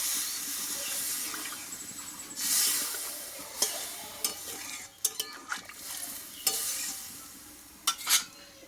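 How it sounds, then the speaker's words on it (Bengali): A little water splashes into a pan of sizzling spiced pointed gourd curry with peanuts, giving a brief hissing burst followed by close spoon stirs, scrapes and clinks against the pan, with no talking. "এবার এখানে আমি অল্প একটু জল দিয়ে দেবো"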